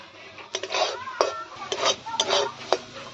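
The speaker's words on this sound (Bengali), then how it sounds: "এবার ভালো করে নাড়িয়ে নেব।" A spoon scrapes and stirs soft, well-cooked sour spinach chutney (chuka palong) in a pot, giving four or five distinct close scraping strokes with wet, squelchy movement between them.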